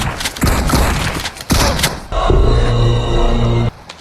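Rapid bursts of PUBG Mobile gunfire crack out in short clusters, then a sustained stretch of steady shots with a mechanical hum underneath, loud and close throughout.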